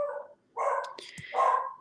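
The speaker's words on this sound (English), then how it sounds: "Oh, what is she barking at?" A deaf senior dog barks at something in a few sharp, yipping bursts with brief gaps between them, close and fairly loud, with no voices over it.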